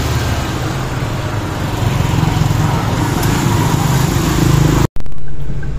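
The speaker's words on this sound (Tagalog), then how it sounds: "Check muna natin yung makina ng sasakyan natin para kondisyon" A car engine runs steadily during a road-trip stop in Zambales, a continuous loud idling drone that cuts off abruptly near the end, followed by quieter ambience.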